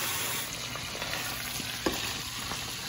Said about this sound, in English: I'm gonna stir the sausage